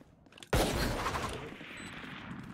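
Gunfire in a competitive shooter video game, a sudden loud burst of shots followed by a sustained, slowly fading blast with a rumbling tail, heard alone.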